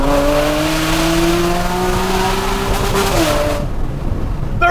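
A Porsche Cayman engine revs hard toward its red line, a loud close rising roar with stepped climbs in pitch before cutting off near the end.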